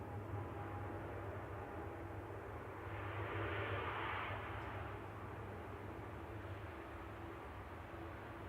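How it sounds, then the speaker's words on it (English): An Aer Lingus ATR 72 turboprop departs Manchester Airport bound for Belfast, a distant, steady engine roar that swells in the middle and then eases off, heard alone with no talking. "Aer Lingus just departing there. Back to Belfast, ATR 72, flight 76."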